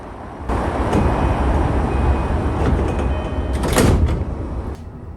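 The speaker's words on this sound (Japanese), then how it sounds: "電車に乗車、扉が閉まります。" JR East Keiyo Line local train doors slide shut at Shin-Kiba Station with a soft rumble and a brief hiss, amid steady carriage noise and a faint chime.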